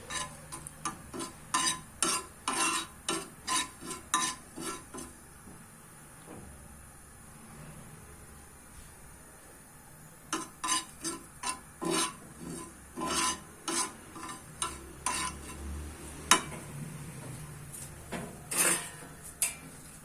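Chickpeas being stirred and roasted in a pan for chana chaat make rhythmic scraping and rubbing strokes of a spoon against metal, repeated in steady runs with a brief lull midway, under a faint sizzle, close and moderate.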